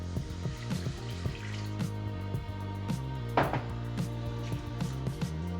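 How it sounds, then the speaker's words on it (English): Vegetable stock goes into a pan for Japanese corn potage and is stirred. A steady liquid wash runs throughout, with repeated close clinks and scrapes of a utensil against the pan, and there is no talking. "you're gonna add in half of your vegetable stock"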